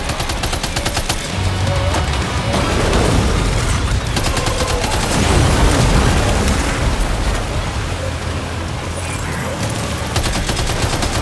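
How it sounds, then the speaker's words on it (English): Sustained bursts of rapid gunfire and rattling shots fill a firefight in Death Stranding 2, dense and loud with booming swells, and a voice briefly speaks within the din. "Opening fire now."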